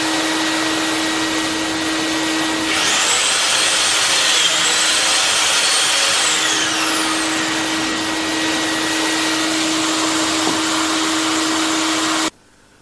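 A Mafell DD40p doweller bores into a wood workpiece with a loud, steady whine that rises as the bit engages and continues for several seconds before cutting off abruptly.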